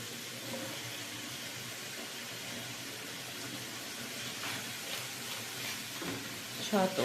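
Chopped carrots fry in a pan with a soft, steady sizzle, fairly quiet and continuous, with a couple of light utensil clinks near the end.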